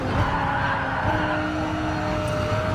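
An Audi R8 Gr3 race car in Gran Turismo Sport, at the Lago Maggiore circuit, slides its rear end through a corner. A steady roaring engine drone carries along with a thin, sustained tire squeal.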